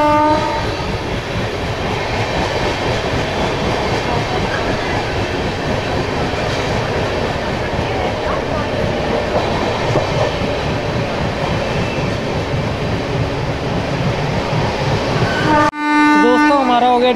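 Train noise heard from aboard the 12413 Pooja Superfast Express as it overtakes a train held on a loop line: a loud, steady rumble of wheels and carriages continues throughout, with horn tones sounding near the end.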